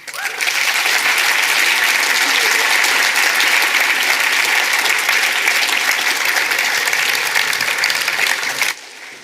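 Loud, sustained applause from a lecture audience at the close of a talk by Professor David Veale on OCD, dense steady clapping for about eight seconds before dropping off abruptly at the end.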